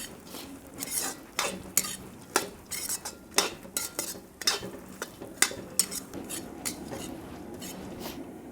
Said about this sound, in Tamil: நம்ம ஊற்றிருக்க நெய்யிலேயே இந்த நட்ஸ் எல்லாம் நல்லா வறுபடட்டும்.